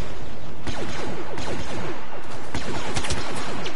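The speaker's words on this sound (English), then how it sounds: "And a pulse cannon chain reaction." Rapid pulse cannon fire in a video game, a dense loud chain of overlapping blasts and bursts with scattered sharp shots throughout, no talking.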